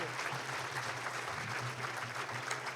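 Audience applause at a City Club luncheon for the Metropolitan Pier & Exposition Authority CEO, a dense, even patter of clapping heard from a distance, steady and fairly soft.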